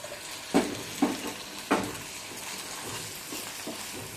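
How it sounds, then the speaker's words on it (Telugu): Chopped tomato stirred into sizzling ginger garlic paste in a pan for egg bhurji, with three sharp stirring scrapes over a steady close frying hiss, no talking. "అల్లం వెల్లుల్లి పేస్ట్ పచ్చివాసన పోయే వరకు ఫ్రై చేసుకున్న తర్వాత కట్ చేసి పెట్టుకున్న టమాటాని యాడ్"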